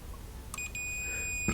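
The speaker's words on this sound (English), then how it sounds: "And so we're getting a beep on the collector, which we should, because the collector goes to the body." A multimeter in continuity mode beeps a steady tone as a probe touches the collector of a transistor while an MCR power supply board is being rebuilt, the sustained beep sounding close over faint background hiss.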